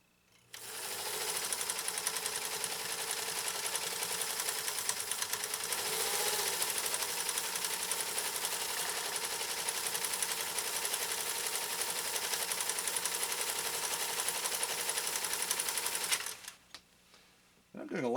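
A PFAFF 332 sewing machine runs a long continuous stitch at steady speed, with a dense, even mechanical whir lasting about fifteen seconds before it stops, followed by a few light clicks.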